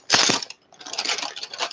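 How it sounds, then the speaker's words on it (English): Colouring pencils clatter and rattle as a hand rummages through a bag of them, a sharp burst of wooden clicking followed by a brief pause and softer continued shuffling, close and moderately loud. "I'm just gonna shuffle around in my bag a minute."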